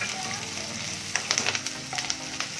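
Small red chillies dropped into hot oil for tomato chutney, a steady close sizzle that breaks into a burst of sharp crackles and spits partway through.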